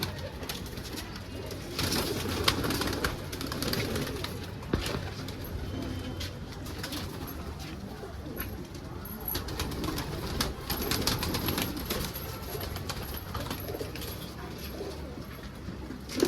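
Pigeons cooing softly and repeatedly amid a busy flock, with occasional rustling and faint voices in the background.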